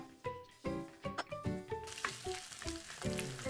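Egg rice being stir-fried in a pan of garlic scallion oil, with repeated sizzling and scraping bursts from stirring, close and fairly loud, and no talking.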